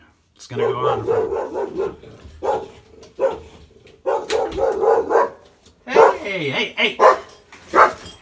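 A dog barks repeatedly at a mail carrier arriving at the house, a close, loud run of barks with some whimpering mixed in, and a person's voice is heard nearby.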